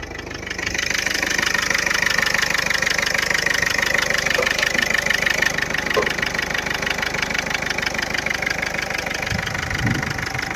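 A 2011 Ford Figo's engine idles steadily and close by, a continuous even rumble with a fine rhythmic ticking throughout, and a brief low thump near the end.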